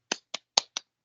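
Four slow, sparse claps, a mocking golf clap, sharp and close with even gaps and no voices.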